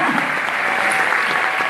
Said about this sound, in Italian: Grande pubblico, tutti applaudono una grande serata.